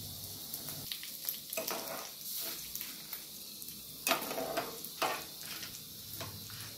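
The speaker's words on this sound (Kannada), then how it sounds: "ಈಗ ಕರಿಬೇವು ಹಾಕ್ಕೋತಾ ಇದ್ದೀನಿ" Curry leaves crackle and sizzle in hot coconut oil with lentils, a close, steady frying hiss broken by repeated scraping strokes of a spatula stirring the pan.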